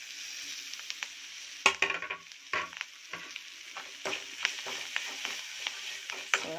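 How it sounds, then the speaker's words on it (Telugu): Chopped fresh coriander leaves fry in a pan with a soft steady sizzle, broken by sharp clinks and scrapes of stirring. "ఫ్రెష్ తీసి కొద్దిగా ఫ్రై అయితే చాలు కొరియాండర్."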